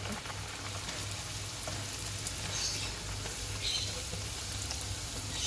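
Poori puffing in hot oil, a steady soft crackle and sizzle holding at an even level throughout with a low hum beneath, no voices.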